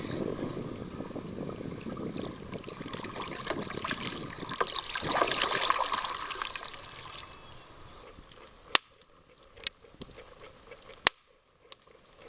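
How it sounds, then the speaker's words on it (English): Coffee brews over a campfire at a canoe and hammock campsite, a steady bubbling, trickling wash that swells in the middle and then fades, followed by a few sharp clicks near the end. "That's the sound of brewing coffee over a campfire"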